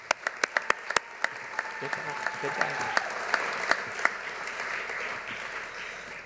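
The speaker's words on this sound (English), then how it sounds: "Let's give one more round of applause to everybody who entered." Audience applause for award entrants at a home design awards event, a steady round of clapping with sharp individual claps early on, while a voice speaks briefly over it.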